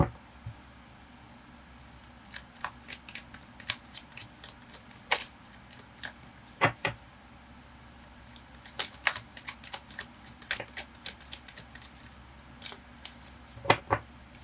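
Tarot cards are shuffled and drawn by hand, producing quick, crisp riffling and snapping bursts in irregular clusters. The sound is close and moderately quiet, with no voice over it.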